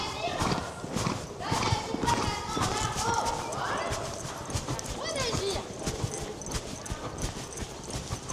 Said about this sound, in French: Ici, elle se rééquilibre un petit peu, mais elle garde le galop.